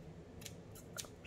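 Scissors snip through a piece of cheesecloth for a card and envelope craft, giving a few quiet, crisp cuts close by with no talking.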